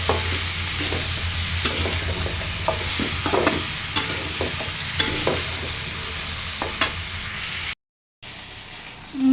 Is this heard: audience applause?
no